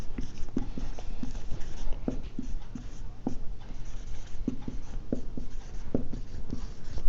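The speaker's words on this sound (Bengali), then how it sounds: "লিখে দেই" Handwriting during an English lesson, a steady series of close scratchy pen or marker strokes in an uneven rhythm, alone over a low background hum.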